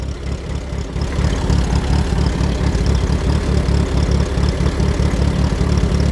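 An Allis-Chalmers D-14 tractor engine idles steadily in neutral, a loud, close, continuous low throbbing chug with even rhythm throughout, no talking over it.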